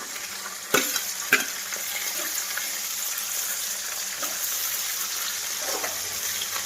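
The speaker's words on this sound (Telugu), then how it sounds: "ఉల్లిపాయ పచ్చిమిరపకాయ ముక్కలు వేపుదాము కొంచెం లైట్గా వేగిన దాకా ఉంచుతాము" Onion and green chilli pieces fry in a pan as a steady, close sizzle, with two sharp spatula knocks near the start and softer stirring scrapes later, with no speech.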